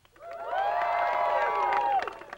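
Cheers and whoops swell from a beach crowd at a tanning contest for contestant number two, a loud sustained roar of voices that breaks off toward the end.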